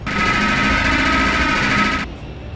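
Rapid, loud mechanical gunfire from cannons and Gatling guns in the RoboCop video game, a dense continuous burst lasting about two seconds before cutting off abruptly into quieter game background.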